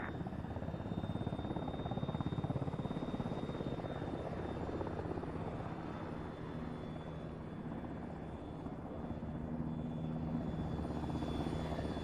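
A military helicopter lands in a simulation game, giving off a steady, loud rotor and turbine drone that holds evenly throughout with a faint high whine and no voices.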